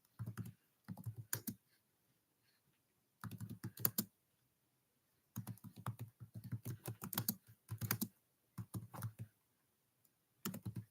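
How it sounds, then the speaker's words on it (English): Computer keyboard keys clatter in rapid bursts of typing separated by short pauses, close and clear with no talking. "I'm trying my best to type them in."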